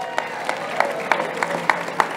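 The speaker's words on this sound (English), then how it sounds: "let's have a great round of applause for Michael and Wawa Welcome America." A crowd claps at an outdoor street naming ceremony in Philadelphia, a thin spread of applause with sharper claps standing out, heard from a moderate distance.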